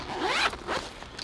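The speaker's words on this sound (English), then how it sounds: "It's got a single zipper on it. It zips from left to right," A single zipper on a collector's backpack pocket is pulled open in two quick, close raspy strokes, crisp and near, with no talking.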